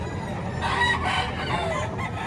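A rooster crows at a busy Batangas chicken market where birds are sold, its drawn-out call rising over a constant crowd murmur, with clucking and other fowl noise blending into the noisy background.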